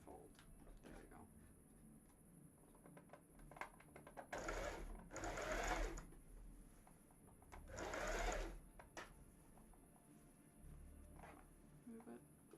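A sewing machine stitches cosplay fabric in short bursts, with two longer runs of fast rhythmic whirring between quieter clicks and fabric handling, close and clear.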